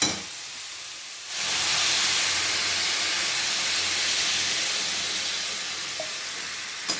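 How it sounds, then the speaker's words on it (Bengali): Water poured into a pan of frying banana plant stem curry sets off a sudden loud sizzle and hiss that holds steady, then eases slightly over several seconds. "এবার এটা জল ঢেলে নেব"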